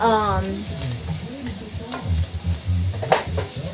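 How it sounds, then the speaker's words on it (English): Asparagus sizzling in butter in a hot pan with soft scraping and stirring, a voice speaking briefly at the start. "It's going to be sizzling, and with the butter and the pepper"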